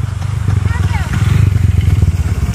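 Kawasaki KLX dirt bikes race at an endurocross event in Bueno Capas, Tarlac, Philippines, their engines buzzing and revving loudly up close while people talk over them.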